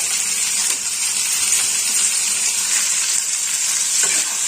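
Chopped tomato fries in a pan with chickpeas and potato, giving a steady loud sizzle close up, with a few light stirring clicks and no talking.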